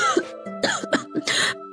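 An elderly woman's labored coughing, a cluster of several harsh, strained coughs and throat clearing in quick succession, close and alone.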